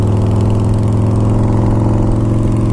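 A heavily modified Harley-Davidson Springer motorcycle idles close by with a loud, steady, deep, pulsing engine rumble.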